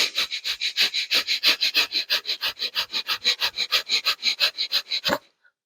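Rapid, forceful nasal breathing in the breath of fire exercise, about five sharp puffs per second in a steady even rhythm for around five seconds, close and loud, then stopping.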